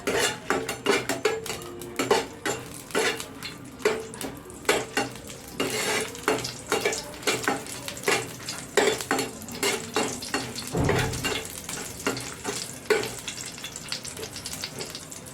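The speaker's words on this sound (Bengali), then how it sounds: "কালো সর্ষে এক চামচ আর তার মধ্যে দেব চারটে শুকনো লঙ্কা" Black mustard seeds and four dried red chillies frying in hot oil in a pan, with a steady close sizzle, dense crackling pops and repeated clinks and scrapes of a utensil stirring, no voices.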